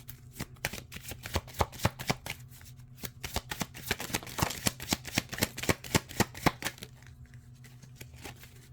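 A deck of tarot cards is shuffled by hand in quick riffles and rapid flicking bursts for several seconds, close and clear, with no talking over it.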